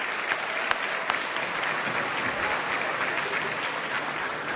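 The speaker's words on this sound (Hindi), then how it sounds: "बहुत सारी तालियाँ इनके लिए" Sustained audience applause at a music festival, dense even clapping from a large crowd with a few sharper individual claps standing out, continuing throughout.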